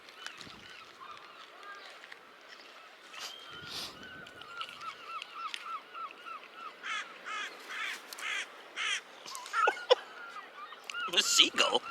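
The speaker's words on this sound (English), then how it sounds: "That seagull is back." Outdoors in Cornwall, a seagull and a crow call near and far. Sharp caws and wailing cries come in bursts that grow louder toward the end, with some background noise.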